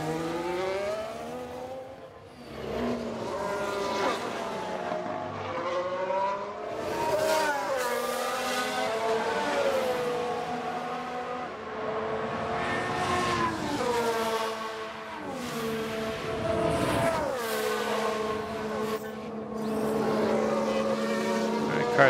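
Race cars scream down the front straight in F1 Manager 2022 during qualifying at the Azerbaijan street circuit, with engine notes rising and falling as cars pass one after another, steady and fairly loud throughout.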